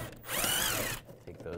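A power tool with a 7 mm socket spins out a bolt while removing the front grille of a 2015-2020 Cadillac Escalade, a single high whirring burst lasting under a second, close up.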